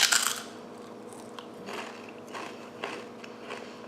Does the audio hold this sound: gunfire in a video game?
no